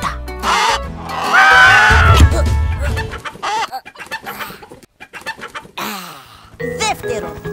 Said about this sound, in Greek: Πρώτον, βρίσκουμε μια γιγαντιαία κότα.